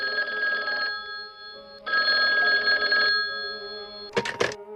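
A police station telephone rings in two long electronic bursts separated by a pause, loud and close, followed by a brief clatter as the receiver is picked up.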